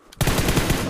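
Rapid automatic gunfire in a shooting video game bursts in after a brief quiet start, a dense loud rattle of shots continuing to the end.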